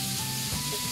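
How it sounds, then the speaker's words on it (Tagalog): Sliced pork belly frying in a pan as its fat renders, a continuous close crackling sizzle at steady loudness. "Ginayot na, misles ng pork belly. Ha, palalabasin muna natin ang mantika nito."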